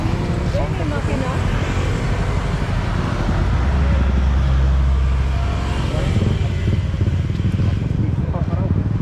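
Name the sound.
big bike motorcycle engine on Marilaque curves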